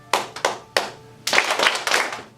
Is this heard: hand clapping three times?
yes